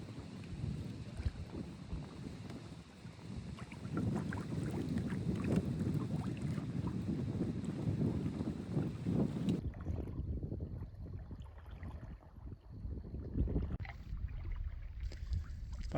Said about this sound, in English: It's windy. We're paddling into the wind, and it's a rough go.